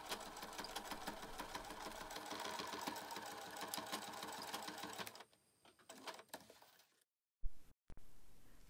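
A sewing machine stitches steadily for about five seconds, securing all four corners of a small zippered fabric bag. It then slows into short, quieter bursts and stops with a brief pause before resuming faintly.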